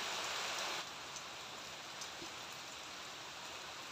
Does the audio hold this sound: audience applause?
no